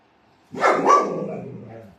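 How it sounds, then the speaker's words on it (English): A dog woken from sleep on the floor lets out a loud, close bark in a quiet room, the sound then tapering off in a short rumbling whine. "I don't even know what he just barked at."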